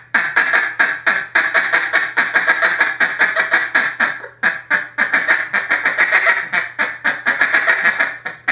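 Duck call blown in rapid single-note cuts, a long run of sharp, close quacks with varied pressure and pace, mimicking a group of different ducks, loud with only a brief pause midway.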